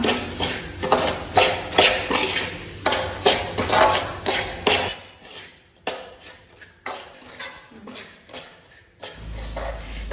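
Semolina (rava) roasting in a pan over a low flame for sheera, with repeated scraping and clinking of a spoon against the metal pan in uneven bursts, loud at first and quieter later.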